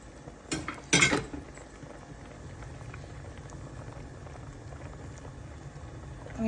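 American potatoes boil in a pot with a soft, steady bubbling close by. A couple of sharp metal clanks from a utensil come near the start.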